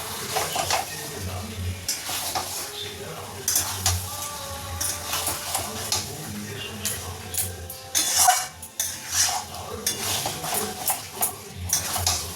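Chicken sizzling in a pan as it is sautéed, with frequent scraping and clinking of a spatula against the metal, uneven bursts of stirring over a steady fry.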